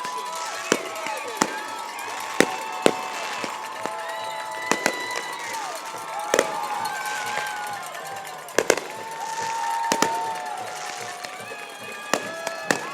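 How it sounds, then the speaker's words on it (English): Fireworks burst at a football stadium on a foggy day, sharp cracks and pops scattered irregularly through whistling and crackling, with a crowd and people talking underneath. "If those fireworks are any sign of the fireworks tonight, we're in for a treat"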